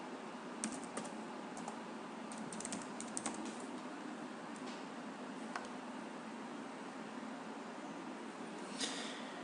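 Fingers typing a CAPTCHA on a computer keyboard, quiet bursts of light key clicks spread irregularly over a soft background hiss, with a brief flurry near the end.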